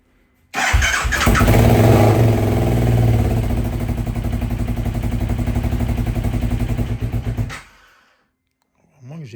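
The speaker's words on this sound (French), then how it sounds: "Quand je lance le démarreur et que je mets un peu de gaz, ça a l'air de démarrer, mais ça s'éteint très très vite." A KTM 1190 RC8 R hypersport motorcycle engine cranks and catches, revving loud and close with a rough, pulsing roar for several seconds before abruptly dying out into silence.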